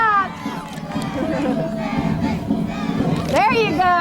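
Parade crowd at an Easter parade cheering, shouting and clapping for Sammy the Seagull, the Salisbury University mascot, a loud sustained mass of voices with a rising burst of screams near the end.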